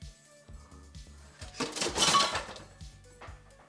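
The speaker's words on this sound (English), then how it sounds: "Next, what we gotta do is get a pan, a circular pan." Metal pans clink and clatter as someone rummages for a circular baking pan, with regular soft knocks building to a louder jangling scrape, then quieter taps.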